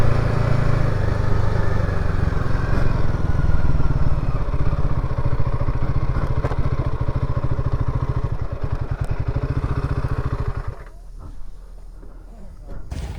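A motorcycle is ridden on roads in Assam, India, its engine drone and wind rush loud and continuous, then easing off near the end.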